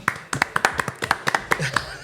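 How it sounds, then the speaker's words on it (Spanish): A few people clapping during a studio talk show's call for applause before an advertising break, about a dozen sharp, slightly uneven claps in quick succession, close and distinct. "Un aplauso."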